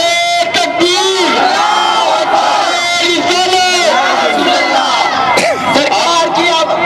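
A large gathered crowd at an Eid Milad un Nabi celebration roars back in unison after the Nara-e-Takbir call, loud overlapping shouts sustained throughout.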